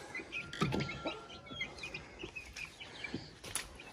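Chickens, a rooster and hen penned on a small rural farm, cluck in short irregular bursts at moderate distance, with soft background rustling and no talk.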